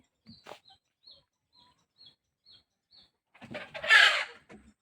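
Backyard hens, one of three birds, give a string of short soft clucks spaced about half a second apart, then a louder burst of squawking and wing flapping near the end. No one speaks.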